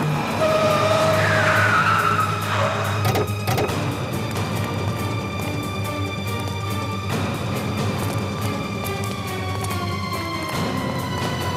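A car skids to a stop on a punctured tyre, sending out a loud sustained tyre screech over engine noise that fades into a steady rumble.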